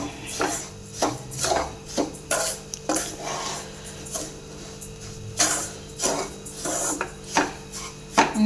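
Semolina fries in ghee in a pan for rava laddu, with a spoon scraping and tapping against the metal in rhythmic strokes about once a second. Faint frying hiss sits underneath.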